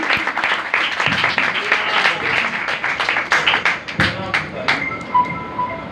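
A church congregation claps loudly together during a Hindi-language Christian sermon, dense rapid applause with sharp individual claps, sustained for several seconds before thinning out.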